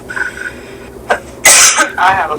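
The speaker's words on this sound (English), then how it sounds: "I have a cough" A person coughs, first a short hoarse cough, then a louder harsh burst followed by a rougher throaty cough, close and loud, with a little talk around it.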